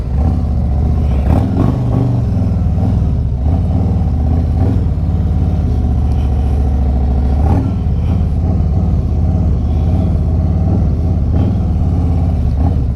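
A heavyweight Harley-Davidson touring motorcycle with a 107 engine idles and maneuvers at low speed: a loud, close, lumpy V-twin rumble throughout, with small throttle blips and clattery mechanical noise, no voices.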